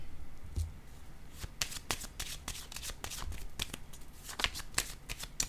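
A tarot deck is shuffled and a card is drawn, giving a rapid, close riffle of papery flicks and slaps in uneven bursts across the whole stretch, with no talking over it.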